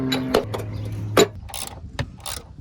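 Ratchet wrench clicking as bolts are removed while a Honda Civic is taken apart, with several sharp close ratcheting bursts and metallic clacks separated by brief pauses, with no speech.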